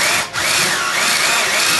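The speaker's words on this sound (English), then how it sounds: "I do it with this drill" A power drill whirs steadily and loudly with a high-pitched motor whine while refreshing an engine, briefly dipping for a moment near the start before running on.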